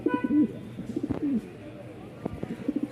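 Red toy Lahori pigeon, an original Pakistani breed, cooing softly in a few short, repeated rolling coos close by, mixed with light background rustle and faint other birds.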